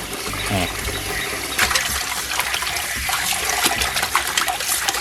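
Tap water runs over raw pork tongue as it is washed by hand, a steady close splashing and trickling stream with occasional wet rubbing, while someone talks over it.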